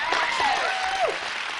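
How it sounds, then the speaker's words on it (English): A live audience at a talk about becoming a better ally breaks into a short, dense burst of applause, loud and close, with a thin whistle-like tone rising and falling over it. "You got some serious applause there."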